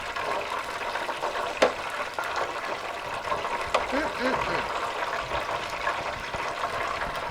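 Pork wontons frying in a pan, a steady soft sizzle and crackle running throughout at moderate level, with a few brief sharper pops and clinks scattered across it.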